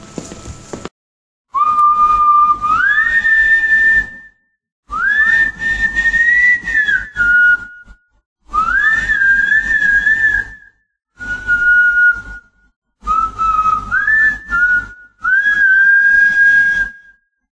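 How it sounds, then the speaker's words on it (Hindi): Eerie whistling in a horror audio story, six separate rising and wavering tones, each two to three seconds long and separated by short silences, loud and close with no speech. "सीटी की आवाज"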